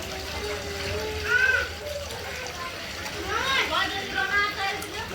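Water drips and splashes off freshly washed fish in a kitchen, in a close, wet trickle that swells in short bursts, with faint voices in the background.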